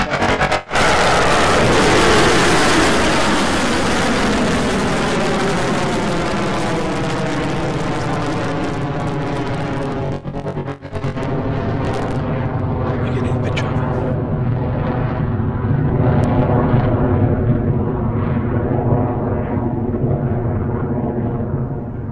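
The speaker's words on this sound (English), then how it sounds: "Off the pad for our 8th Electron launch." An Electron rocket lifts off its launch pad for its eighth launch, its engines making a loud, continuous roaring rumble with crackling texture that slowly thins as it climbs away.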